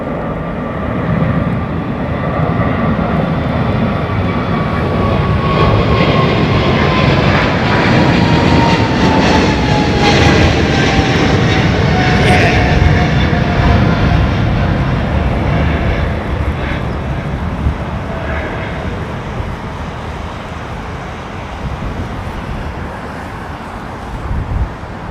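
A heavy jet airliner taking off at Heathrow in wet conditions gives a loud, steady engine roar with a sliding whine, holding strong before easing off as it climbs away.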